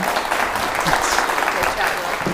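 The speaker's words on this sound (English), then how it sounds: "another round of applause for Will Swan" Short burst of audience applause at an ideas and research awards forum, dense and close, with voices and cheering mixed in.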